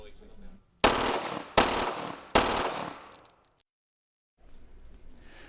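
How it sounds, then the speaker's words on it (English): Automatic gunfire from a Glock pistol fitted with a switch: three loud, rapid bursts in quick succession, each a dense rattle, followed by silence and a low background murmur. "That's the sound of a gun equipped with a Glock switch."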